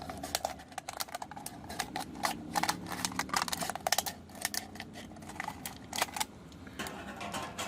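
Scissors cut the bottom off a plastic bottle, a close series of sharp crunchy snips and crackles that come in irregular bursts over several seconds.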